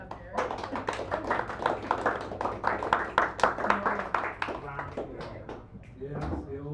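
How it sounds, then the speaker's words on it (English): Small audience at a poetry open mic in a San Francisco cafe clapping in a dense run of sharp claps that thins out toward the end, with voices talking over it. "Give the man a round of applause."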